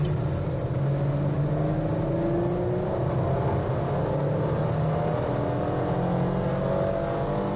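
A Camaro RS hot rod muscle car accelerating hard on a highway toward the red line, engine drone rising steadily in pitch under loud road and wind noise, heard from inside the cabin.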